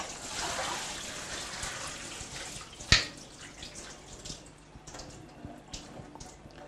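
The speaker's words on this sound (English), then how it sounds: "Make sure you run it through hot water because we don't want them to get cold." Peas drained through a sieve under running hot water give a hissing, splashy rush that fades into scattered drips and trickles, with one sharp clatter partway through.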